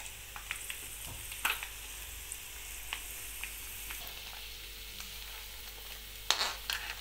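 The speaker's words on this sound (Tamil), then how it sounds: "இப்போ திராட்சை போட்டுடலாம். எல்லாமே நல்லா பொரிஞ்சிருச்சு" Raisins frying in ghee in a pan for sweet chakkarai pongal, a quiet, continuous sizzle with occasional sharp pops and crackles, one louder burst near the end, and no voices.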